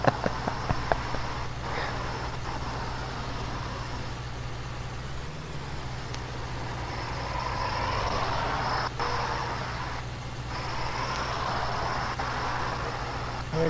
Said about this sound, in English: I'm actually shocked there's this much traffic on Saturday morning here.